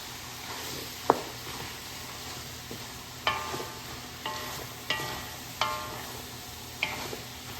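Fried chickpeas being stirred together with sofrito in a pan, soft sizzling under a series of sharp spoon scrapes and clinks against the pan, about half a dozen spaced strokes, nobody speaking.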